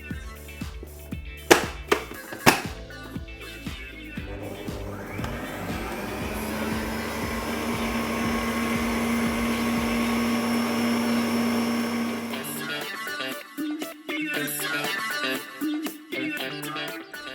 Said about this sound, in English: while it's whisking on a high speed, I'll slowly add all of the remaining cream